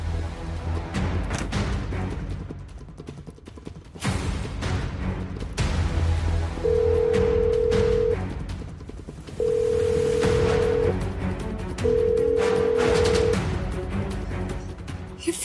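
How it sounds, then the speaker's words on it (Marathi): A phone ringing unanswered, three long steady ring tones spaced a couple of seconds apart, rising over a background of dramatic music. "ही फोन का उचलत नाहीये?"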